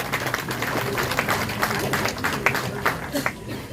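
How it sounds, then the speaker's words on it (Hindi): Loud, dense applause from the audience at a society's awards function. The continuous clapping comes with scattered sharp claps and crowd noise, while voices talk over it. "तालियां बड़ी ज्यादा जोरदार।"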